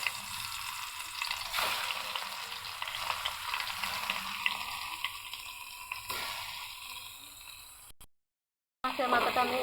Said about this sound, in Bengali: এখন আগে আমি মাছের মাথাটা ভেজে নেব।